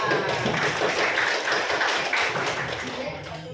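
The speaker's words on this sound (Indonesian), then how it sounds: "Tepuk tangan." A classroom of students claps together in dense, sustained applause that fills the whole stretch and fades slightly toward the end.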